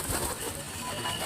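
Pigeons cooing softly near their coop in the evening while they feed, steady low murmuring calls in a continuous ambient wash without any voices.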